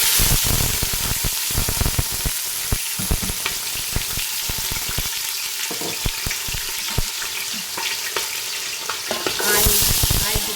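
Onions frying in hot oil in a pan for egg biryani, a loud, steady sizzle up close with frequent scraping stirs throughout.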